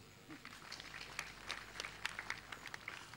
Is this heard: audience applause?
yes